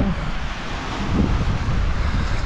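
Large ocean waves break on a beach behind a house, a steady loud roar of surf mixed with heavy wind buffeting the microphone, with no voices.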